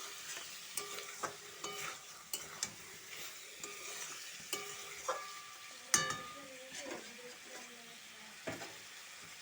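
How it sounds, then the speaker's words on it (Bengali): Country chicken and potatoes fry in a pan under a soft continuous sizzle, with a spoon knocking and scraping against the pan in irregular strokes every second or so, close up and with no talking. "আলু আর মাংস ভালোভাবে কষে নিচ্ছি।"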